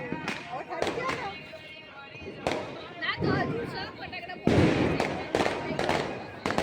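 Diwali firecrackers burst in a series of sharp cracks and bangs, several close and loud, with a denser volley near the end, under a background of chatter and people talking.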